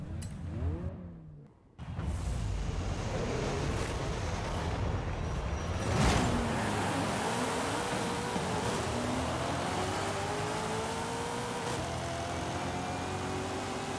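A 1977 Ford Escort RS1800 tuned to 1000 horsepower roars down a drag strip in the racing game Forza Horizon 5. The engine revs rise through several gear shifts, loud and continuous, after a brief dip near the start.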